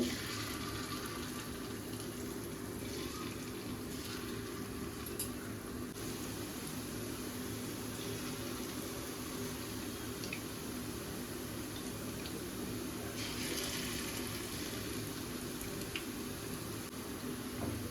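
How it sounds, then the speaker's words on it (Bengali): Small lentil dumplings (bori) frying in hot oil in a home kitchen, a faint, continuous, even hiss of bubbling oil that runs steadily throughout with no talk. "তেলটা গরম হয়ে গেছে বোঝাই যাচ্ছে এবার আমি আস্তে আস্তে বড়িগুলো দিয়ে দেবো"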